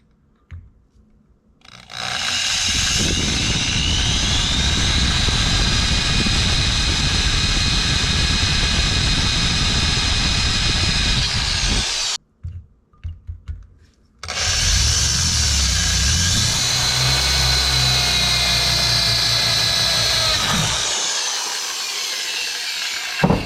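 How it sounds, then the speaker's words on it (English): A power drill with a small bit runs in two long, loud whining bursts separated by a short pause, close by and steady in pitch, while fitting LED lights to a Kioti tractor. "I'm just going to start with a small drill bit first."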